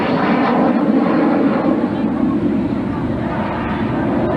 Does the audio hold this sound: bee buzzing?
no